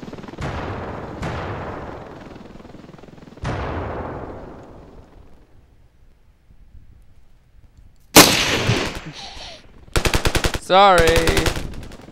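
Gunfire in the Ravenfield video game: several sharp shots with decaying tails, then after a quiet gap loud rapid automatic bursts of machine-gun fire, with a brief spoken word in between.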